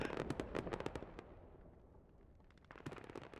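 A heavy anti-tank strike in a military video game blasts a tank's turret skyward, heard as a rapid crackling volley of sharp blasts that thins into a rumbling lull before another burst of loud cracks returns.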